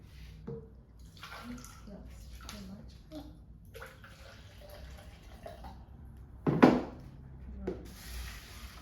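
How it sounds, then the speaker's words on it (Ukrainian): Cold water is poured over bulgur in the pot of a grain cooker, giving soft, intermittent trickling and splashing with light knocks and one louder clatter near the end, fairly quiet overall. "Наголошую, що всі крупи ми заливаємо холодною водою."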